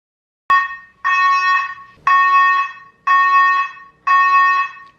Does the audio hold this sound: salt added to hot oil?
no